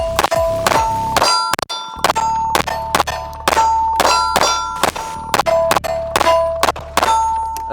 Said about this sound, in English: That's pretty. Yeah, church bells.